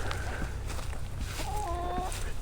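Homestead chickens, a flock recovering from poultry pox, cluck and squawk nearby in a few distinct calls over a low steady background hum.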